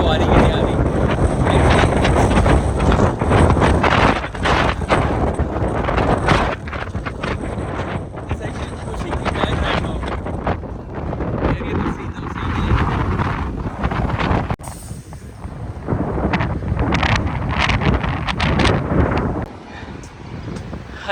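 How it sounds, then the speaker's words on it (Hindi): Strong wind buffets a microphone outdoors near a building, a loud continuous roaring rumble that gusts and rises and falls throughout. "यहाँ पे हवा बहुत तेज़ है।"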